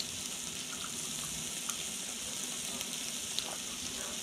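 A piece of Angus beef sizzles on a Blackstone griddle, a steady, even crackle with faint pops throughout and no talking.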